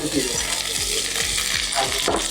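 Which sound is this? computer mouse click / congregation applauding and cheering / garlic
garlic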